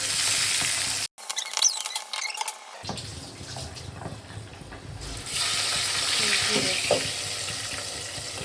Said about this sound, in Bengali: এই তেলের মধ্যেই আমি আর মাছগুলোকে ভেজে নেব।